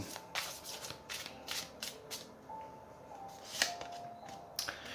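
Tarot cards being handled and drawn, with a series of quick papery flicks and soft slaps at irregular intervals, close by and fairly quiet.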